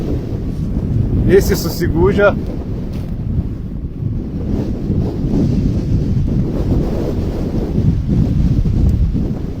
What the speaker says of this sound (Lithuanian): Girdit, kaip siaučia tas vėjas.